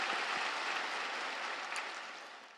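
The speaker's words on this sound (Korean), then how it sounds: "오늘 큰 은혜 받으시는 하나님께 영광의 박수를 드리겠습니다." Congregation applause at an early-morning church service, a dense even wash of clapping that slowly fades out toward the end, no voices.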